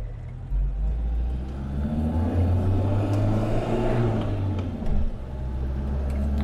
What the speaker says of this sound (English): straight away you can hear this is not a performance orientated car